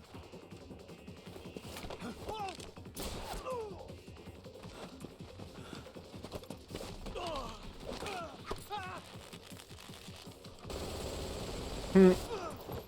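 Gunfire in the Metal Gear Solid Delta: Snake Eater video game: scattered bursts and single cracks mixed with game effects and voices talking, ending in a loud close impact near the end.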